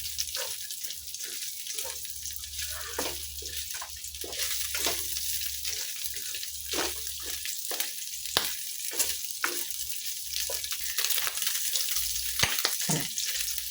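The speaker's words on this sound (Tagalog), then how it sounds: "Gigisa na tayo ng ating bawang at kamatis at sibuyas." Garlic, tomato and onion hit hot rendered pork fat and sizzle loudly, a sustained crackling hiss broken by the scrape and clatter of stirring.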